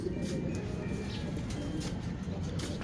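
Racing pigeons cooing around a loft during a derby in Vigan, Ilocos, a steady low murmur of calls with faint chirps over constant outdoor background noise.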